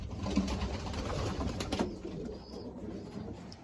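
Pigeons cooing inside a loft, soft layered throaty coos from several birds close by, steady and continuous with faint fluttering, no talk.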